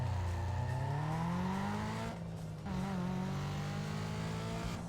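A Ford Puma engine in NFS Most Wanted holds a steady, buzzing high-rev drone near 6,000 RPM with a gruff, diesel-like tone. It dips briefly once, as if shifting, then settles back into a constant hum.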